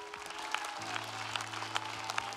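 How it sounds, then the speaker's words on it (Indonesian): A studio audience at a dangdut music show claps steadily, the applause moderately loud and continuous, with a low musical hum and a soft tone beneath it. "Tepuk tangan dong untuk dangdut."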